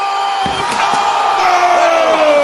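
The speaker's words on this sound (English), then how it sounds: "Jon Moxley, and through the tables they both go." A loud crowd roars and shouts in an arena at a wrestling event as wrestlers crash through tables. One sharp slam-like impact rises out of the steady cheering.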